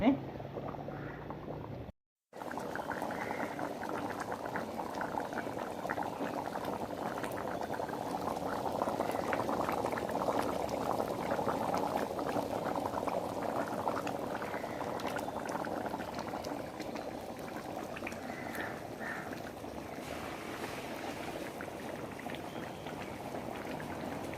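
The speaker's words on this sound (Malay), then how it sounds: "Jadi saya lebih suka biarkan dia merenek sampai dia pekat" Steady bubbling of thick beef curry simmering in a pot, continuous and close, with a brief cut near the start.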